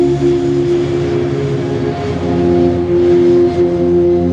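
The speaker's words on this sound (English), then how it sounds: "The aircraft levels off." Airliner engines drone steadily in level cruise flight at night, a loud continuous roar with strong low tonal hum that stays constant throughout, no voices.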